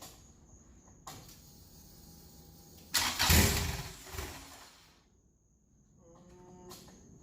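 Car engine fitted with Injector Dynamics 1000cc injectors cranks and catches around the middle, a loud burst that settles into a rough idle before fading, with ignition chimes and a clunk before and after.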